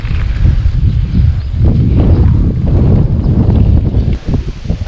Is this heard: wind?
yes